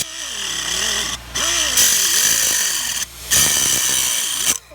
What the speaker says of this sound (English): I'm just freehand cutting it.